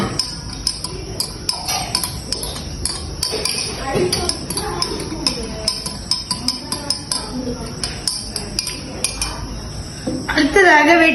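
A spoon stirs sugar in a metal pot, with repeated clinks and scrapes of metal on metal in an uneven rhythm, close and fairly clear, running throughout and growing busier near the end.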